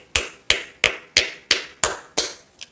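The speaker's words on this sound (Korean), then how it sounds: "박수." Seven sharp hand claps ring out in a steady, evenly spaced rhythm, close and crisp, with no talk over them.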